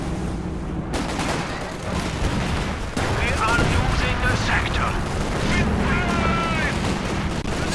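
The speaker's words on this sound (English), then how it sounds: "6-pounder pings his opening shot at max range there" A 6-pounder anti-tank gun fires in the video game Company of Heroes 2, sharp reports amid a dense battle of gunfire and booms, with a commentator talking over the action.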